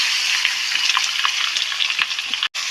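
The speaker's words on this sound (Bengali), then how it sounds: "কচু শাকটাকে দিয়ে দেবো।" Taro leaves (kochu shak) sizzle steadily in a hot pan with black cumin, green chilli and bay leaf, as soft scraping stirs break through the frying, close up and without talk.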